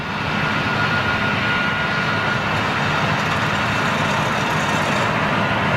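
Steady, loud roar of a jet airliner's CFM56 engines at high power as it rolls for takeoff at Heathrow, a continuous broadband rumble that holds constant throughout with no voices.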